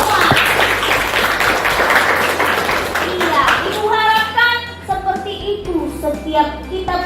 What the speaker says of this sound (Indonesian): Coba berikan tepuk tangan untuk kita semua